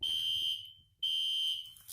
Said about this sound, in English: As you can see, it is now an alarm.